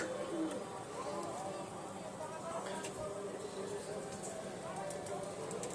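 Soft, repeated pigeon cooing mixed into a busy background from a pigeon loft, with people talking nearby throughout.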